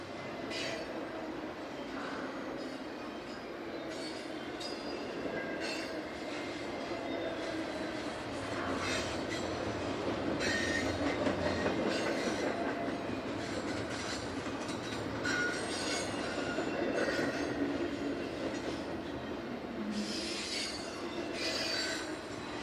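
A freight train hauling a cut of intermodal containers, mostly Schneider National boxes, rolls past on the Meridian Speedway with steady rumbling, rail clatter and squealing wheels throughout, loud and close.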